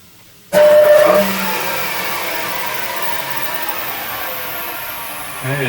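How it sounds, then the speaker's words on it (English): The motor of a Striebig vertical panel saw with a flat belt drive kicks on abruptly with a loud whirring surge that eases into a steady hum, close by, before another brief bump of power near the end. "And we just want to bump the motor a couple of times"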